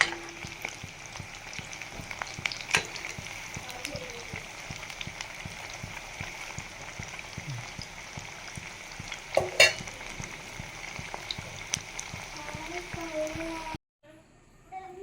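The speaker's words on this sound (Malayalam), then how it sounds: "ആദ്യം ഇട്ട വട പൊട്ടിക്കാതെ മറിച്ചിടുകയാണ്." Anchovy (nethili) vada frying in hot oil and being flipped, a steady soft sizzle with occasional scraping clicks of the turner, close by, cutting to near silence at the very end.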